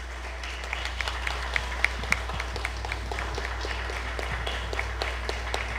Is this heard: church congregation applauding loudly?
yes